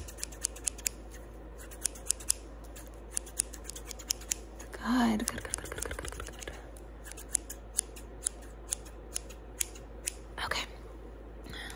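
Scissors make quick, sharp snips while cutting hair for a fast haircut. The crisp clicks come close and spaced through a quiet room, and a soft voice speaks briefly in the middle.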